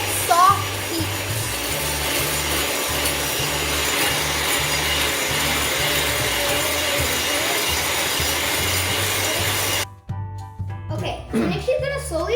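Macaron batter being beaten by hand in a bowl, a steady, continuous scraping whir throughout that cuts off near the end, followed by brief movement sounds.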